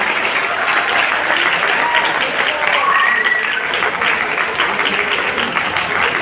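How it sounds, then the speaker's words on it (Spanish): Sustained audience applause for a speaker at a school talk, a thick, even wash of clapping with faint voices and cheers mixed in throughout. "Damos un fuerte aplauso por favor a nuestro ponente."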